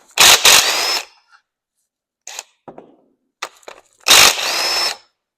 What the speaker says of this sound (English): I'm using chrome sockets on an impact.